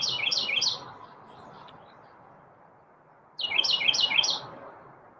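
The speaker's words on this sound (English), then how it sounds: "Sorry, Chirpy's right above" A pet bird chirps overhead indoors in two bright bursts of rapid tweets, about a second apart from each other by a quieter stretch, fairly loud and close with a low room hum beneath.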